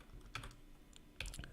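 Short bursts of computer keyboard typing while code is entered, a quick cluster of keystrokes, a pause, then another rapid flurry, close and fairly quiet with no voices.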